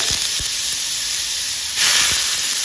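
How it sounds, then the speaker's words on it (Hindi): Bottle gourd tipped into very hot oil tempered with asafoetida over a high gas flame, giving a steady loud hiss and sizzle that swells sharply partway through, with a few soft clunks from the pan. "हींग को हम 10 से 15 सेकंड चटकाने के बाद अब इसके अंदर अपनी लौकी को ट्रांसफर कर देंगे"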